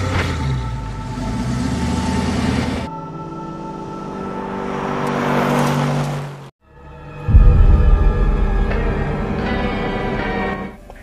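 A Camry sports car pulls away in a film scene, its engine rumbling and revving steadily over a music-laden soundtrack, with a brief drop in sound before the roar resumes loudly.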